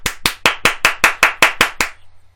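Ten sharp, evenly spaced hand claps ring out alone, loud and close, mimicking the slap of a hand on the bottom of someone's feet during a massage.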